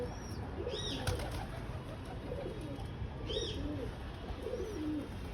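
Pigeons coo softly in low, rolling phrases amid quiet background noise, with a few brief higher chirps and a flutter of wings as a loft is opened.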